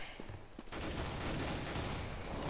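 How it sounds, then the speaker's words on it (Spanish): Gunfire in Counter-Strike: Global Offensive, two quick shots followed by a dense burst of rapid firing that carries on to the end, fairly faint and alone. "Vaya disparo que me he llevado."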